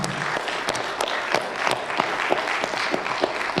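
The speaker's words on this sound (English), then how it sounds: "Can we clap for Nuff Said?" Audience at a hip-hop academic panel applauds, a dense patter of many hands clapping continuously at moderate loudness for several seconds.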